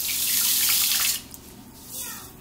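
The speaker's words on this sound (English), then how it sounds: "I'm going to add 4 more cups of water." Tap water pouring into a pot to make brine, a loud rushing splash for about a second before cutting to a quieter trickle that swells slightly again.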